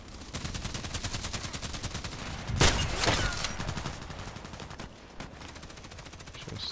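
Rapid, loud gunfire in a sniper-rifle shooter game, a steady stream of close shots with a heavier burst of blasts in the middle, with no talk over it.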